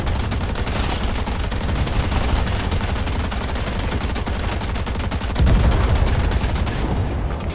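Tank cannons and guns fire in rapid, continuous bursts during a game of MWT Tanks. The battle noise stays loud and dense the whole time, with no talking.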